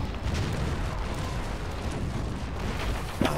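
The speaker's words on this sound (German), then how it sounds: "Eines ihrer Schiffe steht unter Beschuss." Rumbling cannon fire from ships in the Anno 1701 strategy game, a dense continuous roar of overlapping booms with a sharper burst near the end.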